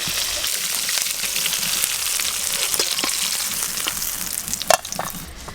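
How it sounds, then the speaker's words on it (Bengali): Potatoes and ridge gourd fry together in oil left over from frying fish, a loud, steady close sizzle with occasional stirring clicks and no talking. "ওই মাছ ভাজার তেলে আলু আর ঝিঙে একসঙ্গে একটু ভালো করে ভেজে নেব।"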